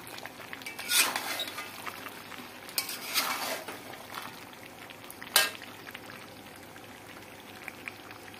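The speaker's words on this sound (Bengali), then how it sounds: "এই যে আমি মটন রান্না করতেছি।" Mutton cooking in a pot in a home kitchen, a low steady sizzle and simmer under occasional clinks and scrapes of a utensil against the pot, a few louder stirring bursts, no talk.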